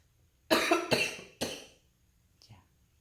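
A person coughs in a quick cluster of three close, harsh bursts, followed a moment later by a faint, short throat sound in an otherwise quiet room.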